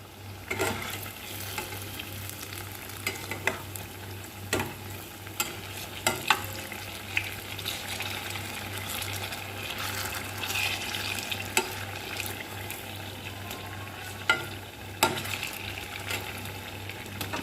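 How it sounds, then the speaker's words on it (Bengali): Sweet potato malpua fry in hot oil with a continuous, even sizzle and occasional sharp clicks of a utensil stirring in the pan, close up and without any talking. "আমার সবগুলি ভাজা হয়ে গেছে"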